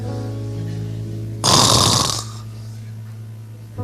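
A preacher's voice imitates loud snoring, one harsh rasping inhaled snore bursting out over a humming background, then the room returns to a quiet drone.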